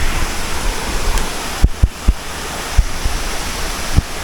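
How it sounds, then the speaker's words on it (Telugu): A light waterfall in a dense forest gives a broad, steady rushing roar, loud and close, broken by a few dull thumps and bumps, with no voices. "ఇంత దట్టమైన అడవిలో వాటర్ ఫాల్"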